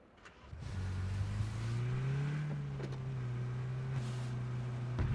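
A car in PUBG drives across the snowy Vikendi map, its engine revving up and holding a steady droning hum for several seconds, close and continuous with no talk.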